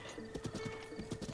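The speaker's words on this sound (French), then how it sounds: "il suffit de siffler pour qu'elle te rejoigne au galop" Hooves clip-clop in a quick galloping rhythm as a horse runs in the video game The Legend of Zelda: Breath of the Wild, a steady run of soft thuds at moderate distance with no talk.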